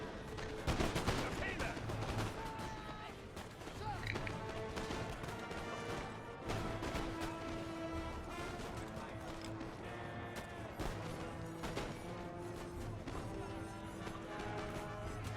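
Musket volleys crackle across a Total War: Napoleon battlefield, with dense, continuous rolling gunfire and sharp bursts under a voice talking throughout.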